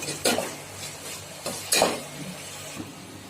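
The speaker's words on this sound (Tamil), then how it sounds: "ஆனியன் வந்து நல்லா எண்ணெயில ஃப்ரை ஆகட்டும்." Onions fry in oil in a pan while chicken biryani is prepared. A utensil stirs in a few scraping bursts over a faint, steady sizzle.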